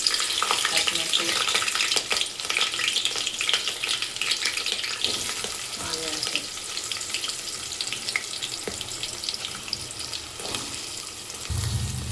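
Curry leaves and green chillies spit and sizzle in hot oil, a continuous bright crackle with sharp pops and clinks of stirring, followed by a sudden low thump near the end.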